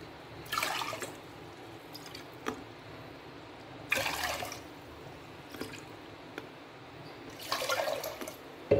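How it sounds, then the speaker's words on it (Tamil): Water is poured from a cup into a cooking pot for green gram payasam, heard as three short splashing pours separated by pauses, with small clinks and drips in between and no voice. "அதே கப்ல 4 கப் தண்ணி ஊத்திக்கலாம்."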